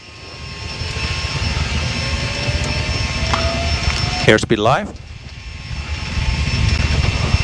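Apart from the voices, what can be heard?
Learjet 45XR jet engines at takeoff thrust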